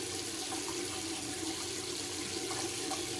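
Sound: water from tap rinsing a shaving face

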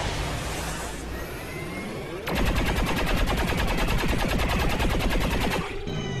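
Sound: shotgun fire in the video game XCOM 2

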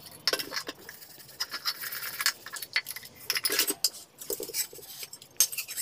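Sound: washing dishes with warm water and detergent

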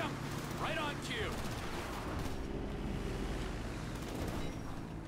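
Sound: gunfire in the video game GTA V

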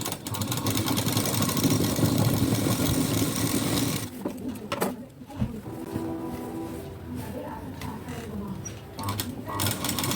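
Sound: sewing machine stitching a blouse sleeve

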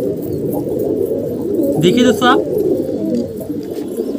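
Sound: pigeons cooing

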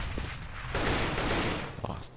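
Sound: gunshots in the video game Counter-Strike

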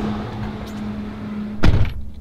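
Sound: getting into a Ford F350 dually truck, door

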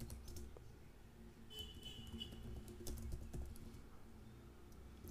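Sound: typing code on a computer keyboard

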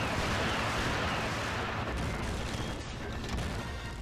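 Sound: Sentinel rocket launcher firing unguided, from video game Nightfire

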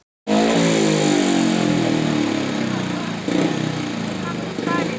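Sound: speedway motorcycles revving before a race

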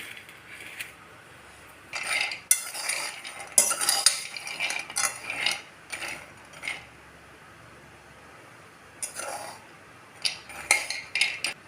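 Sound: dry roasting almonds stirred in pan

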